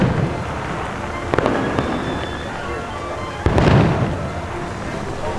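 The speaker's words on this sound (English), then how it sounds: "I just caught the fireworks" Fireworks burst at Disney's Food & Wine Festival, a couple of sharp booms followed by crackling rumble over steady outdoor crowd noise and faint background chatter.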